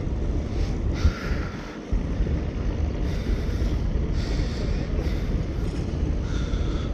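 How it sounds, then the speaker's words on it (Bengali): A passenger launch moving on a river while turning around, giving a steady broadband engine and water rumble with wind buffeting the microphone, continuous and fairly loud throughout. "লঞ্চ ঘুরিয়ে ফেলছে এদিকে, আবার মুভ করে লেগেছে।"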